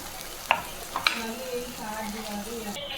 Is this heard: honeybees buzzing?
no